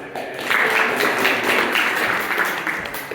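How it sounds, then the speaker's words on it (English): Small audience at an improv comedy game giving a round of applause, a dense burst of clapping that rises quickly, holds steady, then tapers slightly at the end. "Round of applause."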